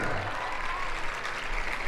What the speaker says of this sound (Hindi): ये लड़के ताली बजा रहे,